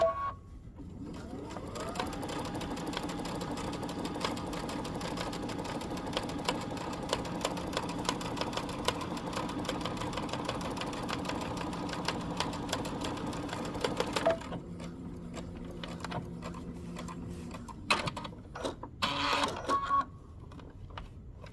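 A sewing machine stitches a stretched neckband on a knit top in one long, steady run of rapid stitching up close, then short stops and starts with handling noises as the fabric is pivoted. No one speaks.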